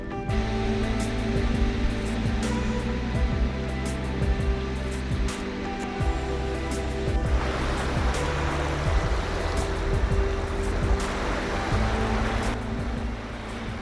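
Waves wash onto a clear-water beach along a UK coastal path, a broad steady rush of surf that swells in places, with a low droning hum running underneath throughout.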